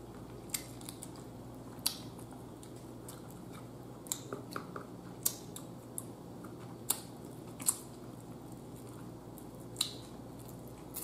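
Chicken wings coated in hot garlic sauce being chewed up close, with repeated sharp wet crunches and bites scattered over a quiet room hum, no talking.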